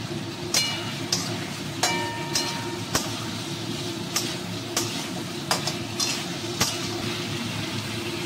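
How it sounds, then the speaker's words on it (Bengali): Fried pointed gourd stirred with spices in a pan for koi fish curry, a continuous sizzle broken by repeated sharp spatula scrapes and clinks at a fairly even rhythm. "এই দেখুন ভাজা পটলটাও এবার দিয়ে নিচ্ছি, এর সঙ্গে একটু কষে নেব"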